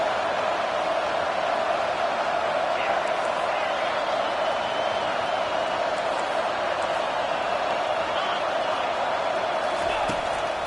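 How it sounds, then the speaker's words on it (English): Home crowd at a football game roaring as the defense faces third down, a broad, continuous stadium din at steady high loudness with no clear breaks. "Here comes this home crowd as the defense tries to get off the field on 3rd down."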